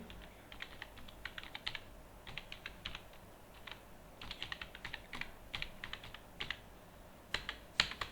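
Fingers type on a computer keyboard while details are entered into accounting software, giving quiet, close key clicks in quick irregular runs with short pauses and no talk.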